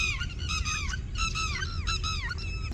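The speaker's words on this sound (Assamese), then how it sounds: "অসংখ্য চৰাই, মানে সকলোফালে কেৱল চৰাই চৰাই দেখিবলৈ পোৱা গৈছে।" Flocks of migratory birds at Wadhwana wetland in Vadodara, Gujarat, give loud, repeated goose-like honks in overlapping bursts, close and continuous over a low background rumble.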